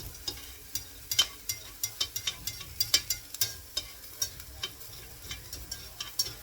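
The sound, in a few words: mushroom, potato, onion and ham frying, pushed from pan edge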